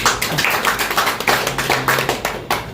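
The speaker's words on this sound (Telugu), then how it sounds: "ఒకసారి ఆయన క్లాప్స్ తెలియజేయండి." An audience at a real-estate marketing meeting claps for a colleague, producing a close, loud run of rapid, uneven hand claps that keeps going steadily, with no speech over it.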